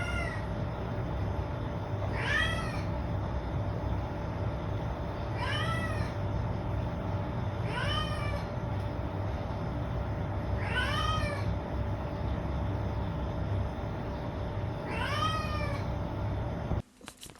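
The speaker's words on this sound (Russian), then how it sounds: "Очень она громко мяукала и вообще много мяукала" A domestic cat meowing loudly and repeatedly, about six clear meows spaced a few seconds apart over a steady background hum.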